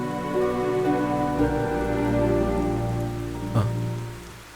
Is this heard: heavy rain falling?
yes